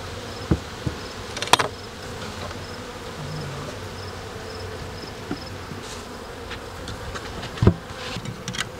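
Honeybees hum steadily around an open beehive in autumn, a dense continuous buzz close at hand, with a few louder individual bees passing near and some faint knocks.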